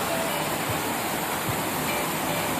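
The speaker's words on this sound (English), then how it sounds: "here we see the creek, Cherry Creek it looks like it's called, joining the Platte River" Cherry Creek flowing into the Platte River at Confluence Park in Denver, a steady broadband rush of moving water heard close and constant throughout.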